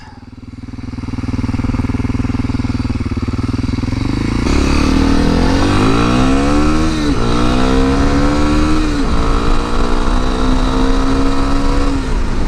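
Dual-sport motorcycle climbing uphill off-road, its engine loud and close, droning steadily before the revs rise and fall in repeated pulls as the throttle works through the climb.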